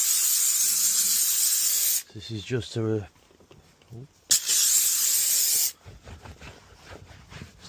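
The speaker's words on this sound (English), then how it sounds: "We're going to go over and steam clean the seats before we do the leather treatment." A steam cleaner working on the seats of a dirty seven-seat Tesla, a loud, close, continuous hiss in two long bursts with someone talking briefly between them.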